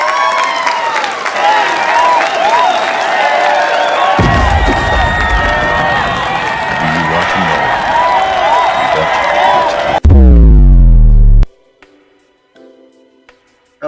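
Crowd clapping and cheering with whoops and children shouting, loud and sustained for about ten seconds over a steady musical tone, then a booming hit and quiet.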